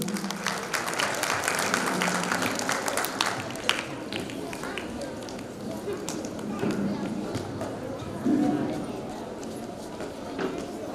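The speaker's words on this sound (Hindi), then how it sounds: "तालियों से इस छोटी सी बालिका का उत्साह वर्धन कीजिए।" Audience at a kindergarten graduation ceremony clapping for a small girl about to tell a story, a dense burst of applause from a crowd that slowly thins out.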